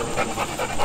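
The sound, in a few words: Gordon Setter dog panting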